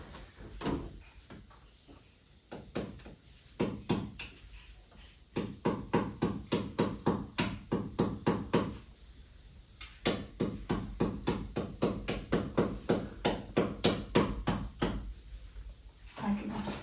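A hammer strikes repeatedly in a home kitchen, likely tenderizing meat, in fast rhythmic bursts of sharp knocks with brief pauses between runs, loud and close, while someone talks at times.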